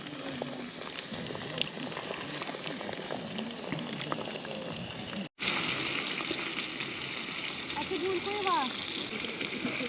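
Water being brought to a quick boil at a pond-side fishing camp, a steady bubbling hiss that grows louder partway through, with voices talking over it.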